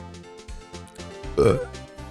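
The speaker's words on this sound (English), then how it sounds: "Oh god, why am I always burping?" A person lets out a single short, close burp in the middle of a brief stretch of voiced sounds.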